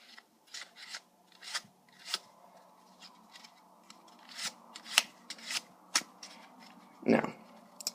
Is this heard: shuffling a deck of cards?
yes